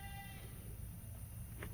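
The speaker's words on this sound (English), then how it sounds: "You hear the goats?" Faint, distant bleating from a neighbor's goats on a rural property, a few soft calls rising briefly over a steady low background rumble.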